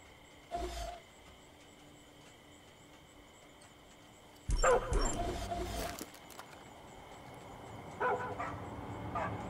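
Dog in the video game Far Cry 5 giving a short bark, then after a pause a louder burst of barking and yipping lasting over a second, followed by fainter low growls against quiet game ambience.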